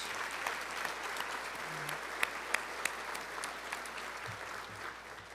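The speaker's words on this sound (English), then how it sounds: "Everybody, let's give them a round of applause." Steady audience applause at a rehabilitation hospital's spring luncheon, a dense even patter of many hands at moderate distance with a few sharper claps standing out, running the whole length without voices.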